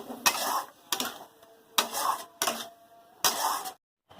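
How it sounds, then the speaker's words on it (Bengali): Ground spice paste with tomato is fried and stirred in a pan for a fish curry with cauliflower and potato. About five loud, close bursts of scraping and sizzling are separated by short pauses. "ভালো করে মশলাটাকে কষিয়ে নেবো"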